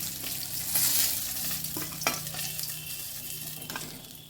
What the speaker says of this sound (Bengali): মাছগুলো এইভাবে লাল লাল করে ভেজে নিতে হবে।